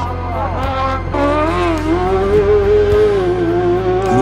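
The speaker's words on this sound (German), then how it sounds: "Stefan Wiegenhofer mit seinem Mitsubishi Mirage R5 Evo 2 und Lukas Boric mit seiner Boden-Boden-Rakete im Anflug auf Schiederdorf" A Mitsubishi Mirage R5 Evo 2 and a French-built Bourgeon hillclimb racer with a BMW S1000R motorcycle engine of over 208 hp race toward Schiederdorf on the Rechberg climb, their loud engines rising and wavering in pitch as they close in.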